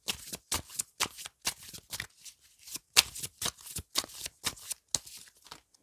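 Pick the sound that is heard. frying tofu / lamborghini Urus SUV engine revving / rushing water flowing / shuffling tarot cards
shuffling tarot cards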